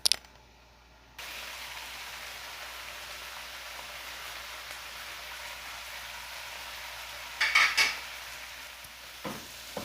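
Ground spices roasting in a pan for mutton chops give a steady soft sizzle, with a sharp clatter at the start and a few louder scrapes of stirring near the end.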